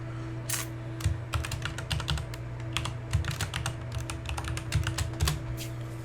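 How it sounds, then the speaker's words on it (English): Rapid keystrokes on a computer keyboard as a password is entered, a steady run of crisp clicks in short bursts over a low constant hum, close and clear with no talking. "Put in the password for ResAdmin."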